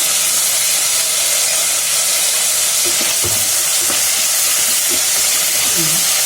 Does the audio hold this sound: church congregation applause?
no